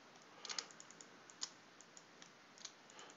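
Soft, quiet keyboard typing with occasional sharper clicks while modelling in Blender, irregular taps spread over a few seconds, close-miked and with no talking.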